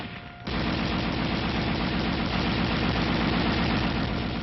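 A 7.62 mm M73 tank machine gun, a coaxially mounted, air-cooled, fully automatic weapon, fires one dense, continuous, loud burst that starts abruptly after a moment of quiet and runs to the end.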